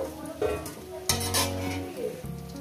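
Fried potatoes being lifted out of a pan of hot oil while making chicken kosha, with steady sizzling and a few sharp scrapes and clinks of a spatula or spoon against the pan, nearby, with no talking.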